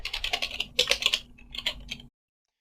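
Fingers type an nmap command on a computer keyboard in quick close clattering bursts of keystrokes, then stop abruptly into silence, with no talking.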